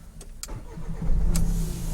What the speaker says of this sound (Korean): 시동을 한번 걸어보면